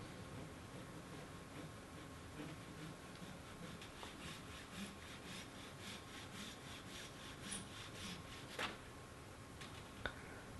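Hand saw cutting through the end of a wooden axe handle, a steady back-and-forth rasping stroke repeated many times at close range, fairly quiet, with a couple of sharp ticks near the end and no talking.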